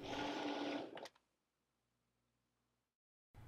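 A Cricut Maker 3 cutting machine whirs loudly and mechanically as it cuts designs for about a second, then falls to near silence before the motor noise briefly returns at the end.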